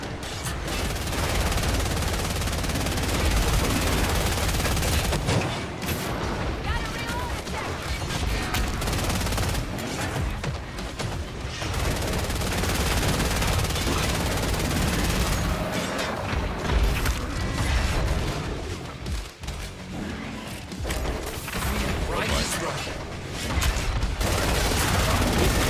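Rapid gunfire from a weapon in the video game Killing Floor 3, sustained bursts of shots and mechanical clatter filling the whole stretch with dense, loud combat noise and brief lulls.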